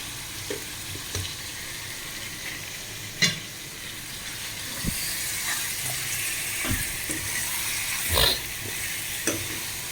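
Onions sautéing with salt in a pan for Tamil-style fish curry, a steady close sizzle with occasional scraping stir clicks and clatters throughout, no talk.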